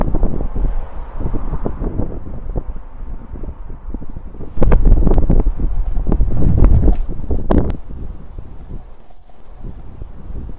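Wind buffets the microphone in a steady low roar that gusts louder midway, then eases back, with no voices.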